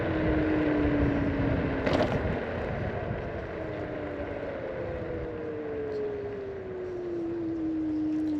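A NIU KQi Air electric scooter slows under regenerative braking. Its motor whine slides steadily down in pitch over a constant roar of wind and road noise, heard up close while riding.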